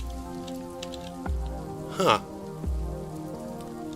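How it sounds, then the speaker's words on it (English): Rain falls in the Seybul Tech liminal explorer game as a steady soft patter beneath sustained ambient tones, with a brief swooping sound in the middle and a short vocal murmur. "It's raining."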